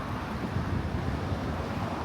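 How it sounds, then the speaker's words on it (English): Low, steady wind rumble buffets the microphone outdoors in Doha, Qatar, a constant dull roar with no voices. "It's getting pretty windy"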